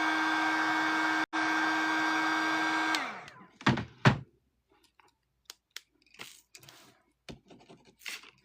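Handheld hair dryer blowing on gouache paint, a loud steady close whir that cuts out briefly, resumes and then winds down, followed by light scattered tapping and handling sounds.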